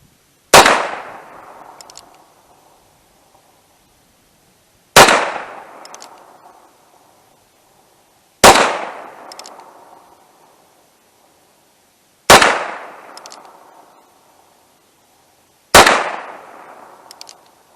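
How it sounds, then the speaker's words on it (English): Five sharp gunshots from a Heritage Barkeep revolver firing VMAX .22 Magnum rounds, each loud crack followed by a short decaying ring, spaced about three to four seconds apart at an outdoor range. "The VMAX 22 Magnum out of the Heritage Barkeep."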